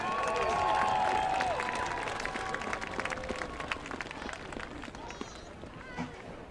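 A stadium crowd at a high school football game applauds and cheers the seniors. The loud clapping fades gradually into a thinner, more distant patter.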